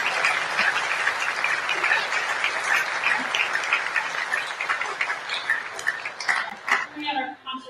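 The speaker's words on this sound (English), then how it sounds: "So one more round of applause." Sustained applause from an audience at an orchestra concert in a high school auditorium, a dense wash of clapping that thins out toward the end, with some voices mixed in.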